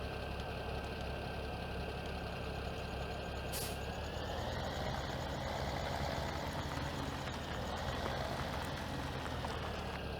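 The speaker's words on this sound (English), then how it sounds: "This thing beeps at you thinking it's full way too early." Warning beeps from a mower in Farming Simulator 2017 sound steadily over a continuous engine rumble, fairly loud and close, with a short sharp burst partway through.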